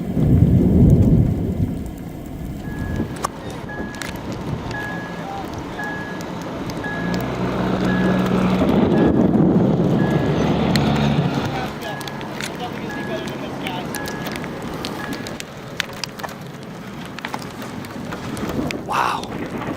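Heavy rain pours steadily in a thunderstorm near a tornado, with thunder rumbling underneath and a repeating electronic beep partway through, while people talk over the downpour.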